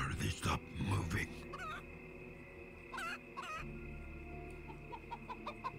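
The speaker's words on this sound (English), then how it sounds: "You will shoot these birds after I throw them." Chickens cluck and squawk in short, lively bursts as they are thrown in the video game Zeno Clash, with a low steady hum running underneath.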